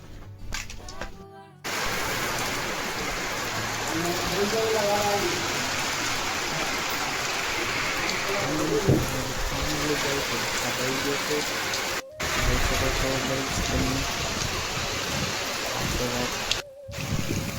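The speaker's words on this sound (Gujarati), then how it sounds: "મોસમનો પહેલો વરસાદ પડી રહ્યો છે." The season's first monsoon rain falls as a steady, even hiss that fills the space, broken by a few short gaps, with faint voices underneath.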